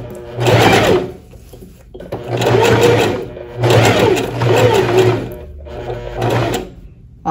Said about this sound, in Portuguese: E continua com a costura reta em cima das linhas que você traçou.